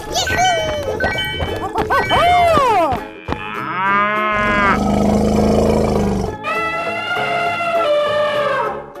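A cow's moo among animal calls in a 3D animal slide video game: a long low bellowing moo in the middle, between a roaring big-cat call and other voiced animal cries, loud and close with game sounds around it.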